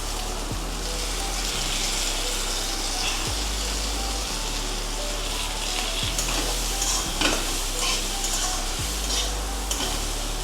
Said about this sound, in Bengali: এবার ডালগুলো ভেজে নেব।